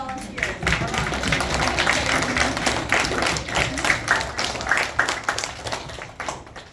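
An indoor audience applauds staff and volunteers at a Boys and Girls Club laptop award event with steady, dense clapping. The applause holds fairly loud throughout and tapers slightly at the end.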